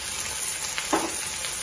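Ginger pieces and a clove of garlic fry in a pan, a steady close sizzle with faint stirring scrapes throughout.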